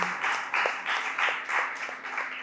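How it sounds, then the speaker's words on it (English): Audience applause at a school debate conference, a steady burst of many hands clapping with a rhythmic swell, fairly close and loud, with no talking over it. "A round of applause, please, for him."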